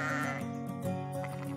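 A sheep bleats loudly and continuously at close range, a sustained wavering cry with a brief break partway through, from a fallen, badly hurt sheep on a farm.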